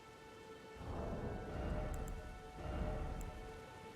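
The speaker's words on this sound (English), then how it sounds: "Go away, rain!" Rain falls in the open world of the video game Elden Ring, a dense, steady patter over a low rumble that swells and recedes a couple of times, with faint high chimes now and then.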